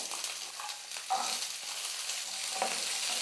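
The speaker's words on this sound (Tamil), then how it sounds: "வெங்காயம் வந்து நல்லா வதங்கட்டும்" Small onions, shallots, sautéing in a pan for a goat head curry make a continuous close frying sizzle, broken by occasional light stirring scrapes and taps.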